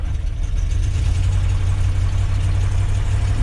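A 1973 Ford F250 engine idles after a cold start in zero-degree wind, producing a steady, loud, low rumble with a strong bass hum that continues unbroken throughout, with no voices.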